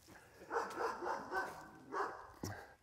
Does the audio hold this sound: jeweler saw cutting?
no